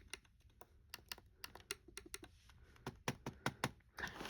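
Keys clatter on a Compaq Presario 1200 laptop keyboard in quick, uneven bursts of sharp clicks. The typing is close and fairly quiet, and no one speaks.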